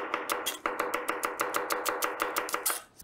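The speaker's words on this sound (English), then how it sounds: "I'm chopping the onion rather finely" A kitchen knife chops an onion finely on a board in a rapid, steady run of about fifteen crisp close strokes, with no talking.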